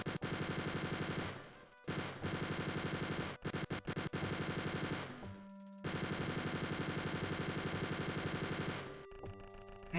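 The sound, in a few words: gunfire from Wolfenstein 3D video game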